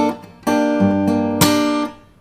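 Fingerstyle acoustic guitar pattern with a bass thump and strum, the chord played a second time with the pinky lifted, giving a few ringing strummed attacks that sustain and fade, close and clear with no talk.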